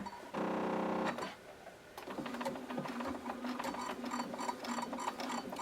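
A sewing machine stitching through the seam allowance of an inseam pocket, with a short burst of fast stitching, a brief pause, then a longer run of rhythmic mechanical stitching with ticking clicks, close and alone.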